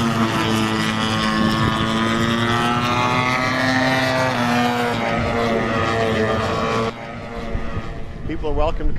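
A radio-controlled model airplane's engine drones steadily and loudly at a modelers' fly-in, its pitch shifting as it passes, with wind noise buffeting the microphone before the sound drops away near the end.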